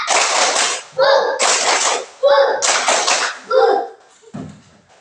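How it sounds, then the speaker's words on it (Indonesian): Children chanting a counting clap game in a classroom, loud voices alternating with bursts of rhythmic hand claps in a call-and-clap pattern. "Tepuk satu, tepuk dua, tepuk tiga, tepuk satu dua tiga"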